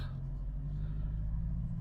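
A manual car's engine rumbles steadily with low, constant drone as the accelerator is pressed while the car sits in first gear, close and continuous throughout with no voices.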